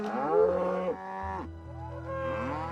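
Angus-crossbred cattle on a farm in Orkney, Scotland, moo loudly and nearby: one long, full low call, then a second, rising moo after a short pause, with no talking.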